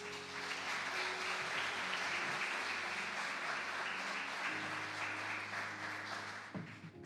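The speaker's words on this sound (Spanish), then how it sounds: "dale un aplauso al Señor" Sustained applause from a church congregation, a dense steady wash of clapping with music or sustained tones underneath, loud and continuous before easing slightly at the end.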